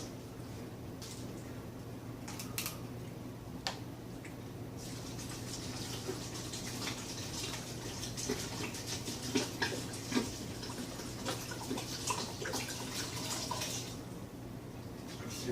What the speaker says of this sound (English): Now we're going to add our apple juice.